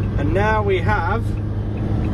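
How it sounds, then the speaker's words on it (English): A camper van rolls along on a family camping trip, its engine a steady low hum under a person talking close by. "Sophia driving the camper van."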